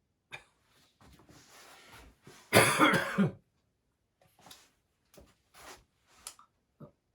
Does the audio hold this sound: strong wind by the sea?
no